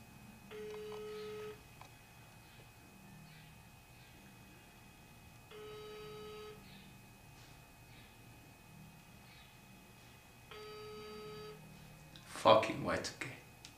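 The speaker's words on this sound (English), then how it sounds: "Phone ringing." A telephone ringing: three evenly spaced electronic ring bursts, each lasting about a second, with quiet gaps between them, and then a short burst of a voice at the end.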